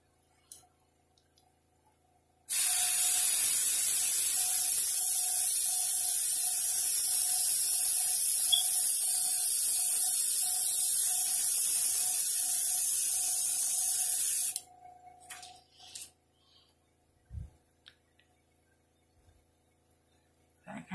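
An airbrush sprays paint over a stencil in a steady, close, airy hiss lasting about twelve seconds, starting and stopping abruptly, with quiet handling clicks before and after.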